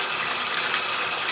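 Water gushes steadily from a tap into a bathtub being filled to about two inches deep, a constant close, loud rushing hiss that runs without a break and with no voices.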